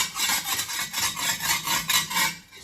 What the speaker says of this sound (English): get your bricklaying trowel and then make sure there's no